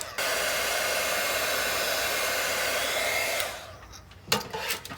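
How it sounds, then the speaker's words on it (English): A heat embossing tool blows a steady, loud whooshing hum over a mixed media art piece with embossed butterflies for several seconds, then cuts off and is followed by a few light handling knocks. "let's go ahead and emboss this"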